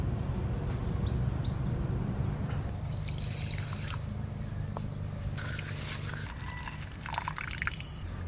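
Mustard seeds are washed in water for a Bengali ilish fish recipe, giving close trickling, dripping and sloshing sounds with occasional brighter splashes against a steady watery background.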